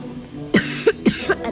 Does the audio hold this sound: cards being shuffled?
no